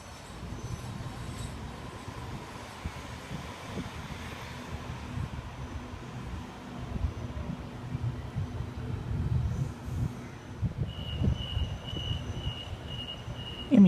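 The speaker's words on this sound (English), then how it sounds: "Emu Plains service just about to depart platform 4, stopping all stations." A Sydney Trains suburban service departs platform 4 for Emu Plains, a low, steady rumble of a train moving off. A high whine rises near the end, with no talking.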